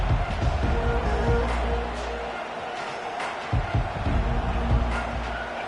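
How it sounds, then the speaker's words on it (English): A stadium crowd roars steadily in the College Football 25 video game during an Ohio State versus Alabama matchup, a dense continuous wash of noise with a few brief thuds underneath. "This crowd bringing an ear-splitting welcome to their visitors."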